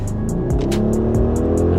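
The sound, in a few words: customized rental car exhaust revving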